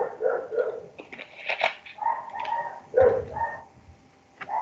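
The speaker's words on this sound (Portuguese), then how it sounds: "Eu não tenho cachorro, mas parece que eu tenho" Dog barking in a home, a series of sharp barks and yelps that come in irregular bursts across the whole stretch, fairly close and loud, with no voices over them.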